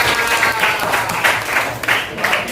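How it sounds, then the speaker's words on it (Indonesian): Classroom applause for a student group, a lively burst of many hands clapping with uneven pulsing swells, fairly loud and close, continuing for a couple of seconds. "Tepuk tangan buat kelompok 1."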